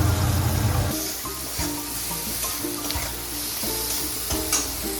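Fried potatoes tipped into a pan for Gujarati-style pav bhaji, with loud steady sizzling and frying plus a few stirring scrapes and knocks of a utensil against the pan.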